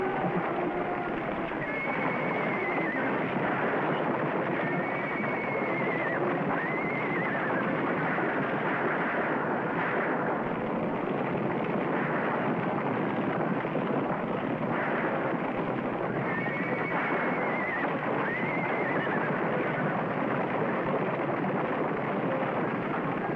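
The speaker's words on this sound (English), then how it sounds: "Stampede!" Stampeding horses in Wild Horse Valley, a dense, continuous roar of galloping hooves with occasional neighs and whinnies breaking through, loud and unbroken throughout.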